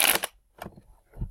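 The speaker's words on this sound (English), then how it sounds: "Alright, one more time, and then I'm going to cut the deck." A tarot deck is handled and cut by hand, making three short papery riffles and flicks, the first the loudest, separated by quiet gaps, close and with no talk.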